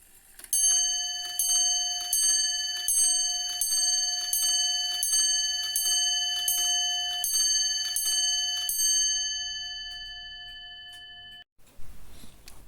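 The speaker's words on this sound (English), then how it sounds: "Here is the front face of the mechanism beneath the dial plate, showing the chime in action." A grandfather clock's chime mechanism, with moon phase work, strikes a steady series of about fifteen evenly spaced bell tones, each ringing on and overlapping the next, then fading out before a brief mechanical rustle at the end.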